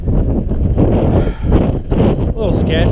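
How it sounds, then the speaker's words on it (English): Strong wind gusting in South Canyon, a side canyon of Marble Canyon in the Grand Canyon, Arizona, buffeting the microphone with loud continuous roaring rumble throughout. "Be a little better if it wasn't windy as hell."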